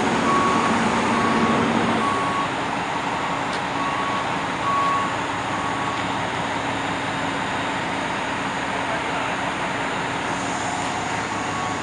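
A large diesel fire truck engine rumbles steadily nearby with traffic noise in Montreal, while an intermittent reversing beep chirps in the first half.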